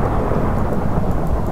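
Loud rumbling thunder from lightning in Minecraft, a dense broadband roll with a steady hiss like rain, close and continuous for its short span.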